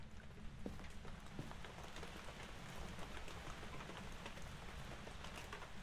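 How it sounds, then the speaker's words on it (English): Steady rainfall at a farmhouse in the horror game Phasmophobia, soft continuous patter with irregular louder drips standing out, faint overall and without voices. "Man, you can just hear that rain"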